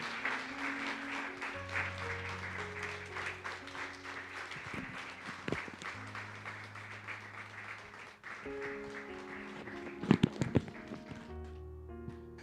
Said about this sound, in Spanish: Vamos a dar un aplauso a Dios.